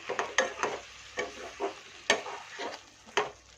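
Spices for a fish curry are stirred in a pan over a medium flame, making repeated rhythmic scraping strokes over a low sizzle, each stroke close and fairly loud.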